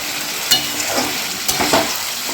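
Spice paste for a hilsa fish curry with potato and eggplant fries in oil, a steady loud sizzle with scraping stirs of a spatula punctuating it at intervals, no voices.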